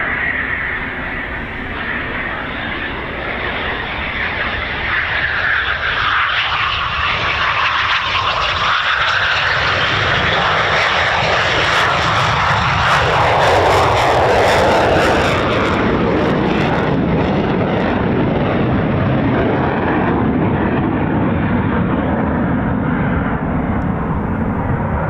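Eurofighter Typhoon FGR4 jets taxiing at RAF Coningsby, a loud continuous turbine roar and whine that swells and shifts in pitch as the aircraft pass nearby, steady throughout.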